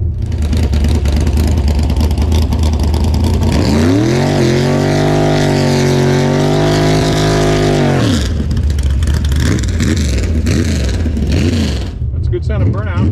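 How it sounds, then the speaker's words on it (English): A loud engine roars and revs hard, its pitch climbing and holding high in a sustained burnout scream before dropping back to a rumbling idle. "That's a good sound of burnout."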